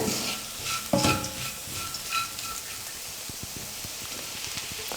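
Mashed potatoes being mixed into a salted onion masala in a pan for a Tamil poori potato masala. There is soft sizzling with spatula scrapes and clacks that grow into a rapid tapping toward the end, and no talk.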